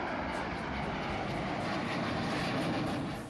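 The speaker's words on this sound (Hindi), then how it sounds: "बादल छंटे तो वायुसेना के विमानों ने उड़ान भर ली।" Air force aircraft flying overhead, a steady broadband engine roar that stays loud and even throughout, with no talk over it.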